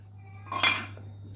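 A metal spoon scrapes and clinks once against a cooking pot while potatoes and eggs for egg biryani are stirred, a brief close clatter over a steady low hum.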